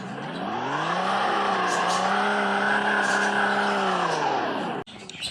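Car engine of the BKM Series 30 Teenage Dream Limited in the Greenville video game, a loud sustained close drone that rises then steadies and falls, then cuts off abruptly near the end.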